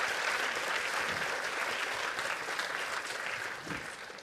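An audience claps steadily and fairly close for several seconds, a dense, even burst of applause that tapers slightly at the end.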